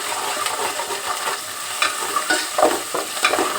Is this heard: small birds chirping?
no